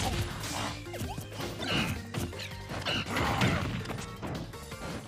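Super Smash Bros Ultimate match in a collegiate esports playoff, with a Wolf player landing repeated up smash attacks: a dense run of game hit and smash effects over a steady background bed, punchy impacts recurring throughout.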